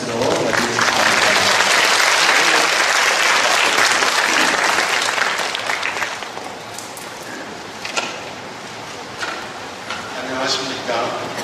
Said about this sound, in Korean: 여러분 뜨거운 박수로 맞이해주시기 바랍니다